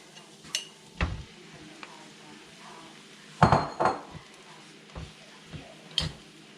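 Beef dropped into a hot pot with onion, paprika and caraway for Hungarian goulash, metal utensil clinks and scrapes with a faint sizzle, sparse knocks close by, no talking.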